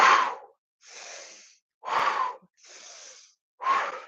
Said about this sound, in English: Big full breath in. Exhale everything out.